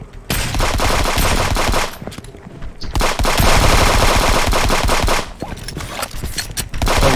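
Rapid automatic gunfire from the video game Friends vs Friends comes in loud, dense bursts separated by brief lulls, close and harsh throughout.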